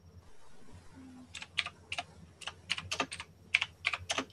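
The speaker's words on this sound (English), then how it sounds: "Sorry about my keyboard, you guys." Fast, uneven clicking of a computer keyboard being typed on, fairly close and moderately loud, starting after a brief quiet moment and continuing in bursts over a low background hum.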